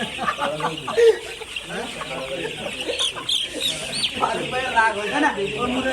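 Five-day-old chicks and hens cluck and cheep repeatedly close by, a busy overlapping chatter with people talking over them.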